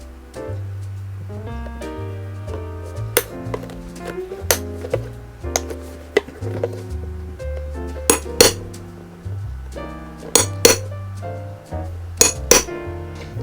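Cutting the leather lining edge of a handmade shoe, with sharp clicks and clinks of a blade at irregular intervals over a low background hum.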